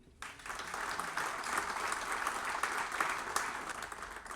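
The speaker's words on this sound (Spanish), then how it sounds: "Un aplauso." Audience applause at a commemoration event in Chile marking the anniversary of the Algerian Revolution, a steady, dense round of clapping that swells and holds for several seconds without speech.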